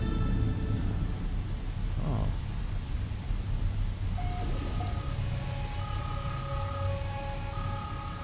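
Harmful rain and thunder on a moon near an outpost in the video game No Man's Sky, a steady heavy rain wash with low rumbling throughout, plus brief tonal game beeps in the background.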